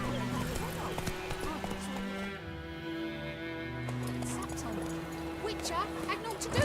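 Roach, the horse in The Witcher 3 video game, gallops with rhythmic clip-clop hoofbeats under steady game music and overlapping spoken dialogue.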